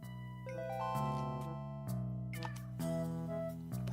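A cartoonish cat meows in a video game, several tonal meows layered over bright chiming game music that plays continuously.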